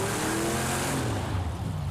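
A Trans Am Camaro in the Project Cars 2 racing game, its engine roaring loud and steady on a snowy track before the pitch drops away.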